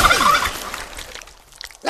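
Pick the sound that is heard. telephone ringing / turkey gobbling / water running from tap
turkey gobbling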